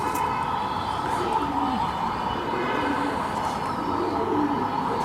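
Madrasi pigeons kept for breeding coo in low, repeated, throaty calls at close range over a steady background murmur.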